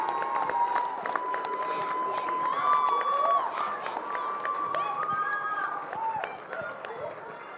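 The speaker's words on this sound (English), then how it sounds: "Let's get a round of applause for the tech crew." A crowd at a school talent show claps and cheers with scattered whistles and shouts, a lively, somewhat distant burst of applause.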